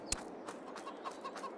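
Chickens on a farm in the video game Farming Simulator 22 cluck softly, a few short scattered clucks over a low steady background hiss.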